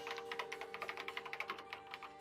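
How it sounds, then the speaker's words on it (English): Rapid keystrokes on a laptop keyboard in the Danganronpa: Trigger Happy Havoc video game, an even run of crisp, close taps over a soft background hum, with no talking. "and she started typing again."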